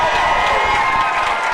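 Large convention audience at a Fright Fest panel for Six Flags Magic Mountain cheering and whooping steadily, a dense, loud roar of many voices throughout.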